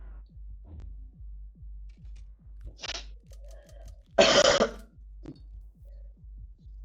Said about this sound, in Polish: Jeśli wam to przeszkadza, że tak kaszlę, no to z góry przepraszam